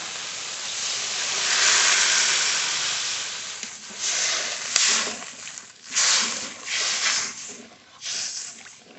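Water poured into hot, oil-glistening spiced masala for a Bengali ritha fish curry bursts into a loud sustained sizzle, then fades into a series of softer hissing swells and bubbling surges.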